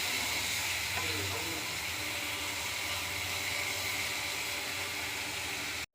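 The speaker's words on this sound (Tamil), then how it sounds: "வெங்காயத்தை நல்லா வதக்கணும்." Onions sauté in a pan with a steady, close hiss and sizzle that continues without a break for several seconds before cutting off abruptly.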